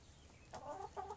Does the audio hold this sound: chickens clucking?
yes